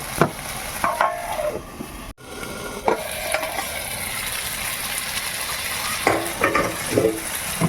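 Chicken fries in a little hot oil in a covered wok, a continuous close sizzle broken by several sharp metallic scrapes and clanks of stirring, with one brief abrupt dropout partway through.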